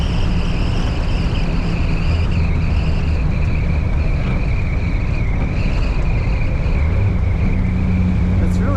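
A 1946 Packard Clipper Six touring sedan cruises at low speed, its engine a steady low drone heard from inside the car beneath wind noise and road rumble.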